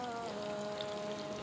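A thin stream of water pours steadily into a bowl of white flour batter, a continuous close trickling wash lasting the whole moment with no voices.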